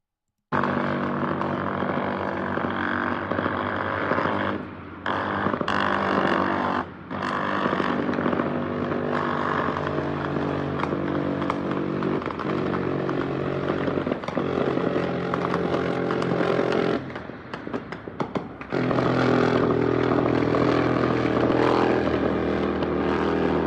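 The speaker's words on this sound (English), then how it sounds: "Presumably a Mexican Army chopper." A Mexican Army helicopter flies overhead during cartel fighting in Culiacan, its loud continuous rotor and engine roar filling the air, briefly dipping a few times before surging again.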